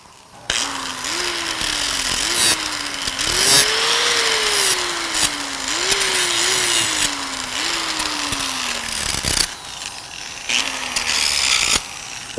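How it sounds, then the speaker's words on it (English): A small 4-inch angle grinder cuts through threaded rod stock, its motor repeatedly winding up and sagging under load in uneven surges. A harsh, gritty cutting noise sits beneath it, close and loud, with no voices. "I'm going to use a little 4-inch grinder because it's kind of easy"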